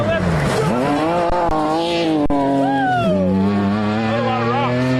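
A rally car on a gravel stage of the Olympus Rally at Stillwater howls past close by, its engine rising and falling through gear changes with a revving pitch sweep, loud and near, as people talk in the background.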